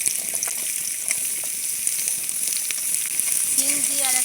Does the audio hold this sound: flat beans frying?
yes